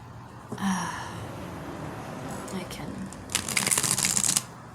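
Playing cards being shuffled by hand indoors, a soft riffle followed by a louder, rapid burst of crisp flicking, close and alone without talk.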